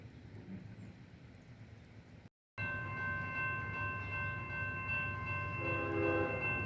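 CSX freight train I141 southbound, pulled by four locomotives with a YN2 trailing, rolls through downtown Portland: a low steady rumble, a brief dropout, then louder rumbling with sustained tonal horn or whistle notes toward the end.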